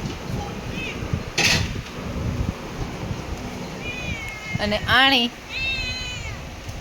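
A cat meows several times in short rising-and-falling calls, fairly close, alongside a person's voice imitating the meows and some scattered talk and background clatter.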